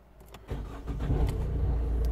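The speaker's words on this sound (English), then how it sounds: "we're going to start the engine" A Vauxhall Opel Astra engine starts close by: a brief cranking whirr, then the engine catches and settles into a steady, rising idle rumble.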